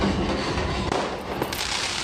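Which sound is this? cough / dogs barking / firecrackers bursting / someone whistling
firecrackers bursting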